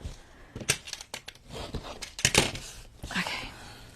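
Scissors cut paper for a handmade journal in a series of close, crisp snips and slicing strokes at an uneven pace, with no speech.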